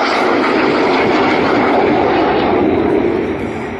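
Red Arrows jets roar past during a carousel crossing manoeuvre at the East Fortune airshow, a loud, broad continuous engine rush that swells and then begins to fade away.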